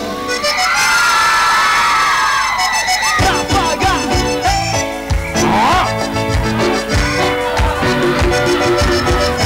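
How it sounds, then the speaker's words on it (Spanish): Girls in a TV studio audience scream loudly during a cumbia group parody, a dense, sustained crowd shriek for about three seconds before it gives way to loud band music and singing. "A ver el grito de la chica."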